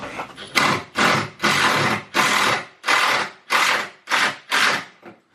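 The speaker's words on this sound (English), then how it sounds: "So I got some 3-inch wood screws there and here." A power driver sinks 3-inch wood screws to mount a speaker on a ceiling, a loud close whirring in about eight repeated pulses, each a second or less, with short gaps between.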